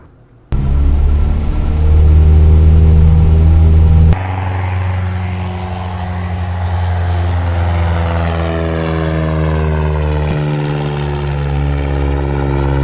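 A Cessna piston engine from a Microsoft Flight Simulator add-on drones steadily, a loud propeller hum that starts suddenly, settles into a lower, even throb, then shifts pitch slightly near the end, with no talk.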